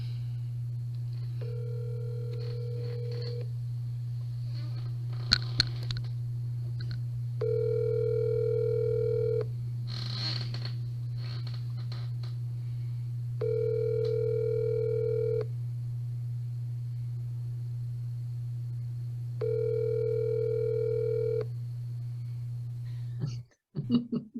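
A continuous low telephone tone under repeated two-second ringback pulses, about four evenly spaced rings on an outgoing phone call, clear and close, ending in a brief clatter.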